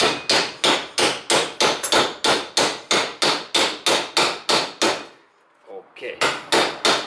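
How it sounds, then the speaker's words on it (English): A big hammer strikes a metal exhaust pipe during a flexible muffler replacement in a fast, steady series of sharp ringing blows, pauses briefly, then resumes hitting at the same pace, loud and close. "And then I take my big hammer and I hit that in down."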